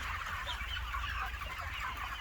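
A flock of chickens clucks inside a farm poultry barn in a steady, dense chatter of overlapping calls that runs throughout at moderate distance, with no one speaking.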